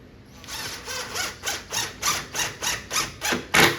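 Screws are driven into a Bubbles arcade cabinet during restoration. A ratcheting, whirring tool sounds close up in about nine evenly spaced bursts, with the final burst the loudest.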